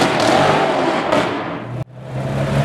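A Porsche 991.2 GT3 passing close by on the street, a loud engine roar that surges, dips sharply on a gear change, then builds again as it pulls away.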